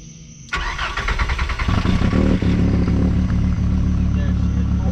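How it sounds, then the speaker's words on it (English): A VR5 Savoy car engine with an exhaust leak cranks and fires after a quiet moment, then settles into a loud, rough, rumbling idle with ticking pulses close by. "I think this car sounded like an exhaust leak from last time."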